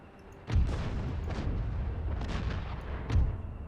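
Cannons fire across a battlefield in the strategy game Empire: Total War, with three or four heavy booms spaced about a second apart and a rumbling roar between them, fairly near and without talk.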